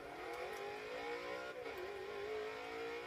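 A modified van in the Forza Motorsport 6 racing game drives and accelerates, its engine a steady droning tone that climbs in pitch, dips briefly, then rises again, loud and continuous with no talk.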